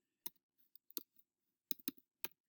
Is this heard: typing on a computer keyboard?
yes